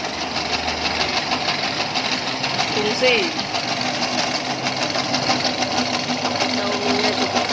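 A manual noodle-making machine converted to run on a motor hums and whirs steadily throughout, with a brief voice speaking over it.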